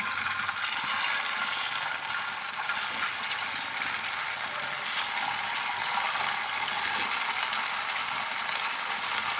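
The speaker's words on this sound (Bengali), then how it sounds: "তেলটা গরম হয়ে গেছে এবার এক এক করে রসবড়াগুলোকে দিয়ে দিচ্ছি" Dumplings of flattened rice (chira rasbora) fry in hot white oil, a steady dense sizzle and crackle that holds evenly without pause.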